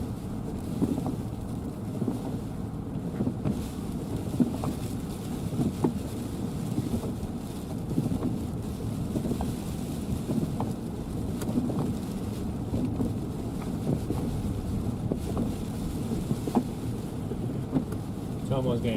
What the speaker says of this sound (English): I see the wind ripping up here a little bit more.